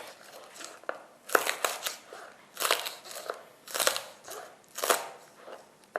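Crisp crunching of fresh noodle salad ingredients comes in repeated bursts about once a second, close and fairly quiet, with small crackles between.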